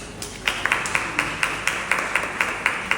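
Small audience at a council on ageing annual general meeting clapping for community groups, a sparse, fairly close patter of individual claps at a steady rhythm rather than a full ovation.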